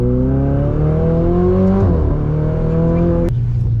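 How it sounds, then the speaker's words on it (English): A Ferrari 488 Spider engine revs loudly through the gears in town, echoing off walls and buildings, with a rising tone that dips at a shift and then steadies, close and unbroken. "The engine is like reverbing off of the walls and the buildings and the houses."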